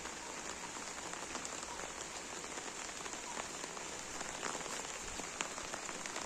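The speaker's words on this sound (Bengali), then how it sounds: "এই বৃষ্টিটা কিন্তু খুব ইম্পর্টেন্ট একটা" Steady rain pours onto lotus plants growing in tubs outdoors, a dense, even hiss of drops pattering across leaves and water, close and continuous with no voices.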